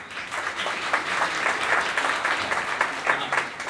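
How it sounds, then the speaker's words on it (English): Audience at an orientation and reception applauds the teachers, with a short, lively round of clapping and some crowd murmur. "Okay, so give a clap for them."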